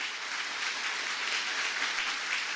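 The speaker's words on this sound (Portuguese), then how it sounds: "Aplauda bem forte ao Senhor." A church congregation applauds the Lord together during a Portuguese-language service, a dense, steady wash of many hands clapping at once, loud and continuous with no gaps.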